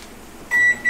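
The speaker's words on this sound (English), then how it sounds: "Throw the rice inside the microwave, heat that up, and then that'll be good to go." A microwave oven heating rice gives a sharp, loud electronic beep, then a second beep starts right after.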